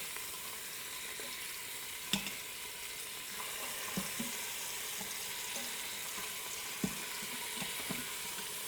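Beef sears in oil in a pan for Korean beef, a faint, even sizzle with a few soft clicks and scrapes from a utensil, no one speaking.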